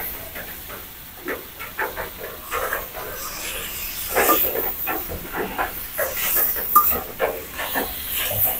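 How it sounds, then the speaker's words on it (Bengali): Vegetable stalks stir-frying with shrimp in a hot pan, a loud hissing sizzle with repeated scraping strokes of a spatula, building stronger partway through. "এখন দিয়ে দেবো ডাটা দিয়ে একটু কষায় নেব"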